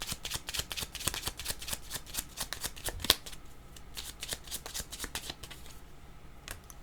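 Tarot cards being shuffled by hand: rapid riffling flutters repeated in quick bursts, close and crisp, with a brief pause midway and no talk.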